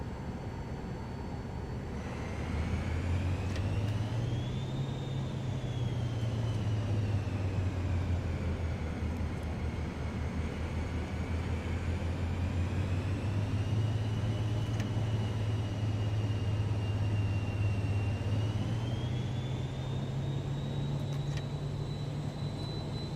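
Cirrus Vision Jet taxiing on the ground, its jet engine a steady, loud whine with a rising and falling tone and a deep low rumble underneath, continuous and close throughout with no talking.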